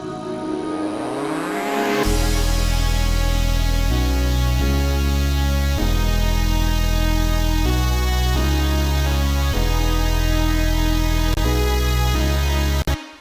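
Layered synth music collapsed to mono for a Zoom stream, sweeping up at first, then sustained bright chords with a stepping bass line, loud and steady, cutting off abruptly at the end with no talk.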